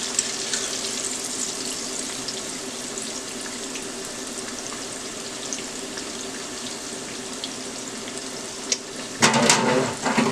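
Chicken gizzards and liver frying in peanut oil, a steady crackling sizzle that runs unbroken and fairly close, with a brief louder burst of spattering near the end.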